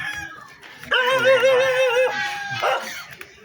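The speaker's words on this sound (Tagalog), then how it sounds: "Daming aso dito." A dog lets out a drawn-out, whining howl up close, with yips and scattered barks from other dogs around it.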